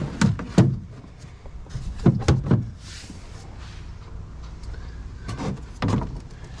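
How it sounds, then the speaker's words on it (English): Small wooden battery cover door on a jon boat being fitted, giving a series of close wooden knocks and clatters in irregular bursts with quieter handling noise between. "this is gonna be a little door that I can put back here over the batteries"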